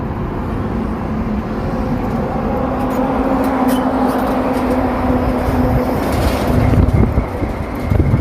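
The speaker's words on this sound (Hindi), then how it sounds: "रात में जब हैवी लोडेड ट्रक के टायरों की सड़क पर रगड़ से जो आवाज सुनाई देती है" Heavy loaded truck tyres rubbing on a road at night produce a loud, steady rumbling roar that swells slightly toward the end, with a low droning tone and no talk.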